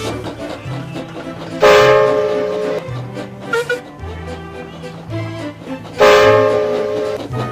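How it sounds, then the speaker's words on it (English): Steam engines rumble along a railway with a rhythmic low chug while a loud whistle sounds twice, once near the start and again near the end. "Rusty, Rheneas and Scar Loey chugged cheerfully through the Sodor countryside"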